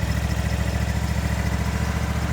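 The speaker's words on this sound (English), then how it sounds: "we are going to let the engine run for about 10 minutes" A Gravely zero-turn mower's engine idles steadily after starting, a loud, close, even low-pitched rumble with a fast regular pulse and no voices.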